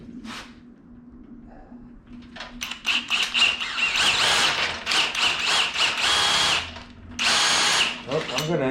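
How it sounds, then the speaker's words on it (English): Power drill boring out a hole in a part for a 1955 Chevy gasser, with bursts of loud, close whirring, short pauses and a voice speaking briefly between runs. "we're just gonna drill that out"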